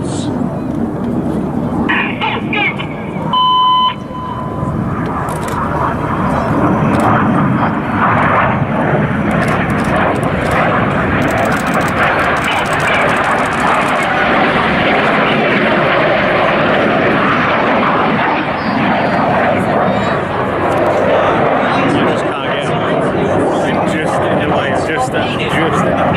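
Red Arrows jets fly low over an airshow at Duxford, producing a loud, sustained roar that swells and rumbles for over twenty seconds. A commentator speaks over the noise through a public address system.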